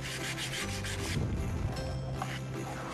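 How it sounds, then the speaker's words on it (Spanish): Sandpaper, folded over for a firmer grip, rubs along the small edges of a wooden dish rack in a steady, close scratching rhythm with no voices. "Acá en estos bordecitos podemos con la lija"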